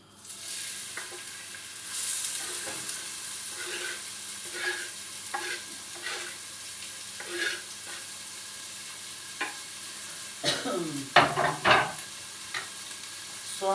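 Onions crackle and sizzle steadily in a hot pan, with occasional scraping and stirring clatter from a utensil close by.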